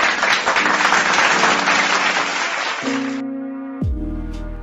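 Applause from a crowd fills the first three seconds of an online tribute event, a dense, fairly loud patter of clapping that cuts off abruptly, followed by sustained electronic tones.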